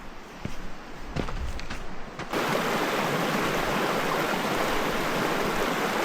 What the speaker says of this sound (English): Beautiful mountain water.